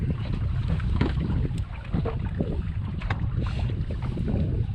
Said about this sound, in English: The wind's starting to pick up back here.